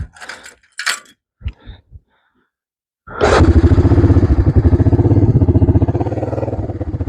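A Honda 300 Fourtrax quad fires up after a few brief mechanical clicks and knocks, then settles into a loud, close, rhythmically chugging idle that drops slightly in level.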